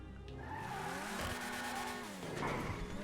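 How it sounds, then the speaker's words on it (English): A Principe Deveste Eight supercar in GTA Online roars with a loud, sustained engine note that climbs and falls through revs, with tire screech and skidding mixed in as it drives close by. "Definitely not unique exhaust note by any means"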